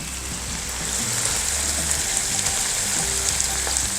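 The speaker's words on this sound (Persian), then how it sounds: "این وسط ربمو تفت میدم تا رنگش رو متساعد کنه و بوی خامیش گرفته بشه" Tomato paste sautés in a hot pan with a steady, close, bright sizzle and faint stirring scrapes throughout, with no voices over it.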